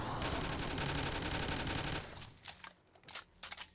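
Rapid automatic gunfire in a Call of Duty Zombies mod, a dense sustained burst for about two seconds, then scattered sharp shots and clatter.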